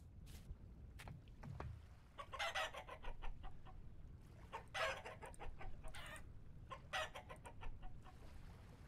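Chickens in the Vintage Story video game give several faint, short bursts of clucking at a distance, spread across the clip over a low, steady ambient rumble, with no voices.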